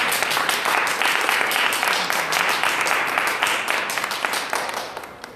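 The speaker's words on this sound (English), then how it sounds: "Can we give it a round of applause?" A crowd at a public gathering breaks into a sustained round of applause, dense overlapping claps holding steady for several seconds before gradually tapering off toward the end.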